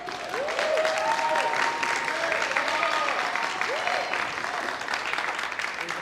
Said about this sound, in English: big, big round of applause